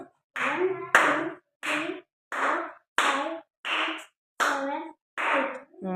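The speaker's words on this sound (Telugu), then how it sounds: "8 క్లాప్స్ కొట్టు" A child claps eight times in an even, steady rhythm, each clap spaced about a second apart, probably with a voice counting aloud alongside the claps.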